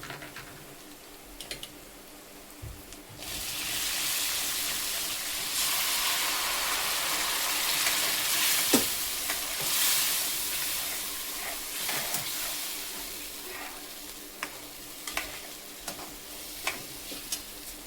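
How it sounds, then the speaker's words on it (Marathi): Cooked dal poured into a hot tempering in a pan for chakolya (varan phale), giving a steady close sizzle and frying hiss with stirring and scraping clicks throughout, no talk. "आता फोडणीत थोडंसंच टाकायचं. आता आपण याच्यात डाळ टाकून घेऊ."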